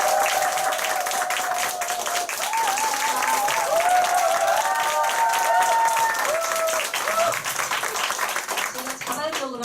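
A meeting-hall crowd cheers and claps to welcome a speaker, a sustained burst of applause and shouts while upbeat music plays over it and a voice speaks through the noise.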